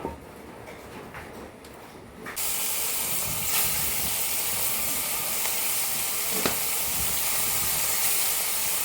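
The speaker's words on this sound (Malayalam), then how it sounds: "ഞാൻ കുറച്ച് ഉണക്കമീൻ നന്നാക്കി വെച്ചിട്ടുണ്ട്. അതും കൂടി ഒന്ന് വറുത്തെടുക്കുകയാണേ." Dried fish frying in coconut oil, a quiet start that jumps to a loud, steady sizzle and hiss as the fish goes into the hot oil, close and continuous with a few crackles.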